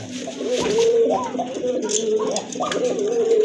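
Two Koka pigeons coo together in a steady, near series of low rolling calls, with faint background hiss and occasional higher chirps from other birds.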